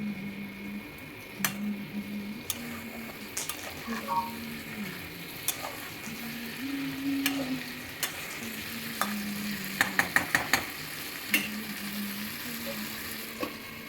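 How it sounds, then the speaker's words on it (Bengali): Bottle gourd and potato being stirred with spices in a pan, a low steady sizzle under repeated spatula scrapes and sharp clacks against the metal, including a quick burst of taps near the end. "ভালো করে মশলার সঙ্গে লাউ আর আলুটাকে আমি মিশিয়ে নিচ্ছি।"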